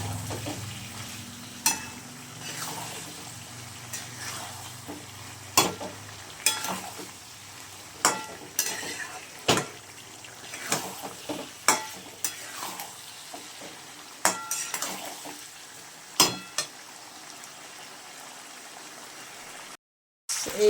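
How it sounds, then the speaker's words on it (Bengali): Chicken pieces with chilli powder being stirred and fried in a pan for chicken curry, a steady sizzle broken by repeated sharp scrapes and clinks of the spoon against the pan, close and fairly loud, with no talking. "দেখো, চিকেনটাকে খুব ভালো করে কষিয়ে নিতে হবে।"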